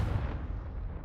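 A Confringo fire spell blasting in the Hogwarts Legacy game on PS4, one loud booming burst at the start that rumbles and fades away over about a second.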